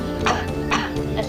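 A voice imitates an animal's coughing bark: three short, rough, evenly spaced bursts, close and fairly loud.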